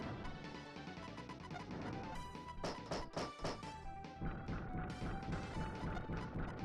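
Boss in the video game Super Bomberman makes repeated hard knocking hits, a cluster of sharp, loud impacts mixed with the game's tonal music.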